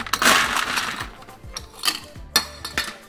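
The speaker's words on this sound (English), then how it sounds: "And then fill your mixing glass with ice." Ice cubes tumble and clink into a cocktail mixing glass for a Boulevardier variation, a loud bright rattle followed by several separate knocks and clinks, with no voices.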